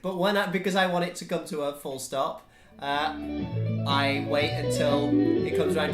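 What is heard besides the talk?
None of the usual background noises is heard.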